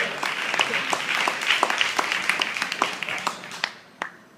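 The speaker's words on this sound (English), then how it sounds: "give a round of applause to our..." Audience applause at a presentation, a dense burst of many hands clapping that thins into scattered claps before fading near the end.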